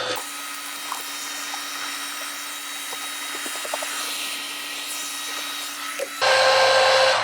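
Heat gun blowing a steady airy whoosh while heat-setting a paint stencil on FootJoy golf cleats, running continuously close up, then jumping louder and brighter near the end as the gun shifts closer.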